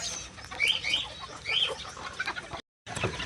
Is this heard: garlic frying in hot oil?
no